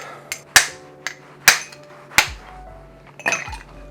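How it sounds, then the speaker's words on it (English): A large ice cube knocks into a mixing glass being readied for a pineapple ginger Negroni, giving four or five sharp, hard clinks and clunks at uneven intervals, close and loud with no voices. "Grab my big cube here"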